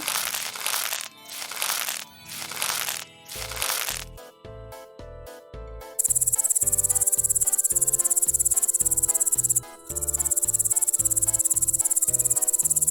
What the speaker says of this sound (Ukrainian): коник